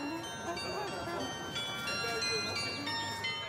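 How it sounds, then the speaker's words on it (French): Carillon bells chime on the Renaissance facade of the Hochzeitshaus on Hamelin's central square, a soft melodic run of ringing tones heard from a distance with some outdoor ambience and no speech. "le carillon scande à la fois le temps et l'histoire telle que les Grimm l'ont relatée"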